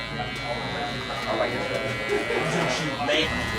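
Electric hair clippers fitted with a 1.5 guard cut a fade, giving a steady close buzz that runs throughout under a man's speech.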